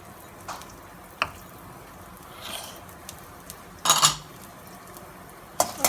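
Mustard seeds, urad dal, curry leaves and hing sautéing in oil, a faint background sizzle punctuated by sharp spoon-on-pan clinks and scrapes, close and intermittent.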